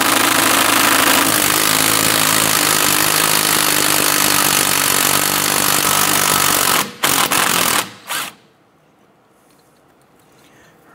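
A power tool, likely an impact gun, removes a bolt from the front control arm of a 2006-2013 Chevrolet Impala, hammering loudly and steadily up close before cutting off in a few short bursts into near silence.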